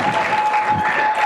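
Audience applause follows a speech on forgetting the vape, a brief dense burst of clapping that stays loud and even throughout.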